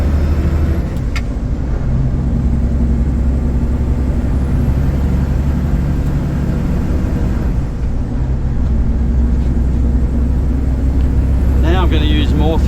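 Truck with an 18-speed Road Ranger gearbox pulling under throttle in a higher gear, a loud steady diesel drone heard from inside the cab, with a brief hiss near the end.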